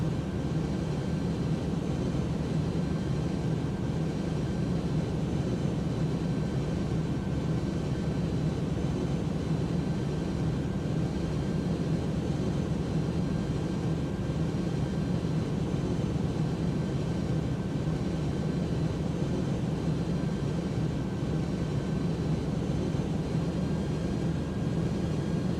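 An Airbus Beluga ST in the X-Plane 12 flight simulator gives a steady, unbroken cockpit drone of engine and airflow noise with a faint high whine. It stays even and constant, with no talk.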